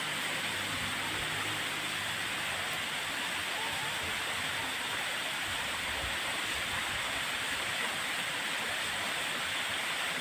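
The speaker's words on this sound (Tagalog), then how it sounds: "Yan na napakagandang falls." A waterfall roars continuously beside a river, a dense, steady rushing wash that is loud and close with no breaks or talk.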